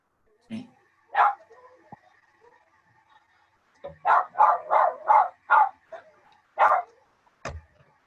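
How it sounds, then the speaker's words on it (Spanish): A small dog, a little pet close by, barks in sharp bursts: a few scattered yips, then a quick run of five or six barks with soft whimpers in between, fairly near and loud. "¿Quién está con el perrito al lado?"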